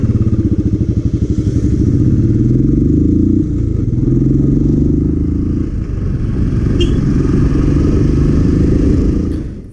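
A Royal Enfield Classic 350 BS6 single-cylinder engine idles close up with a loud, steady thumping beat and some mechanical clatter, with no talking.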